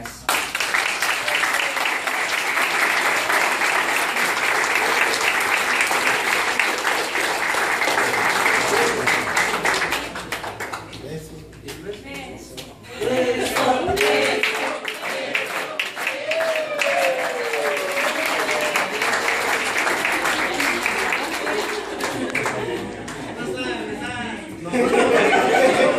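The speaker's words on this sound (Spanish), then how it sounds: "Un aplauso otra vez." Congregation applauding at the close of a Catholic Mass after the final blessing, a steady broad wash of clapping lasting most of the time, dipping briefly in the middle, with talk and chuckles mixed in.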